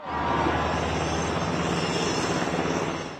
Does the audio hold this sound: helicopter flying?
yes